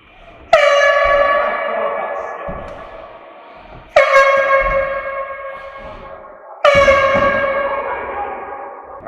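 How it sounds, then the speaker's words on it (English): Air horn at a BMX prank blasts three times, each a loud, brassy, sustained honk with echo that slowly decays before the next sharp blast. "Air horns, give me a new one."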